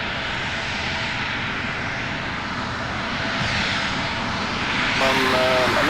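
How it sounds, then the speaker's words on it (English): An Embraer E175 United Express jet taxiing at SDF airport at night, a steady loud engine roar and whine from nearby that grows slightly louder toward the end. "This one's going to taxi over to the maintenance ramp."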